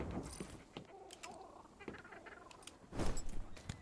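Birds in the video game The Cycle: Frontier chirp and cluck in short bursts over a busy, noisy game backdrop, growing louder near the end.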